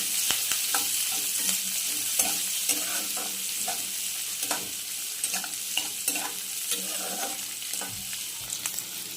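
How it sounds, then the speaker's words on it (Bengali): Green chillies and onion fry in a pan, a constant close sizzle broken by repeated scraping and knocking from a spatula as they are stirred. "এটাকে আগে ভালো করে আমরা ভেজে নেব।"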